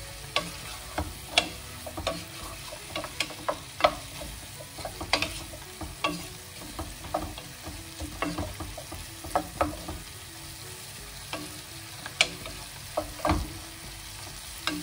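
Spices sear in a hot frying pan for a kabsa-style rice dish. A steady sizzle runs throughout, broken by frequent clicks and scrapes from stirring.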